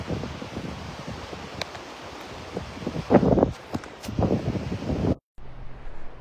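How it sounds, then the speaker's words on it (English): Gusts of wind buffet a microphone outdoors on Delnor-Wiggins beach in North Naples, Florida, rumbling and rustling in uneven bursts before cutting off abruptly. "Getting windy up here."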